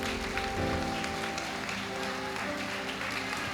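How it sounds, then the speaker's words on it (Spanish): A church congregation applauds for Christ Jesus during a Spanish-language service, steady clapping over a sustained musical backdrop of held organ or keyboard tones, continuous and moderately loud throughout. "Aplauda a Cristo Jesús y dele gloria al Señor."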